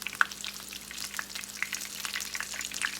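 Crawfish corn fritters fry in hot oil with a soft, continuous sizzle dotted with sharp pops and spatters, fairly faint and close, no voices.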